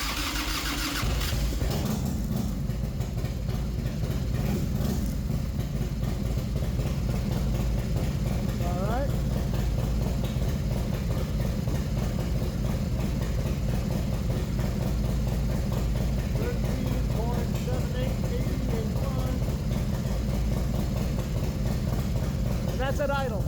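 An FXR motorcycle engine cranks and fires up, then settles into a steady, loping idle that runs on throughout, with someone talking intermittently over it.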